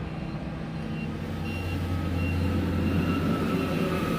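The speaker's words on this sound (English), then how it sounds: "That's my loader." A loader works at a yard stacked with roofing shingles, its reversing alarm sending repeated high beeps above a steady engine rumble, moderately loud and continuous, with no talk.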